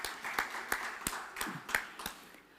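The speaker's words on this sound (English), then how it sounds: "We can have a better round of applause to welcome him" Sparse audience applause welcoming a panel speaker at a sustainability technical session, a few distinct claps at an uneven pace rather than a full ovation, moderately distant and fading out toward the end.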